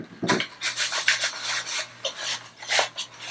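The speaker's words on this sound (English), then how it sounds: "I'm going to go ahead and wipe it off first to make sure I don't have any particles with a damp" A damp cloth wipes across sanded plastic, producing bursts of close, loud rubbing and swishing strokes in an uneven rhythm.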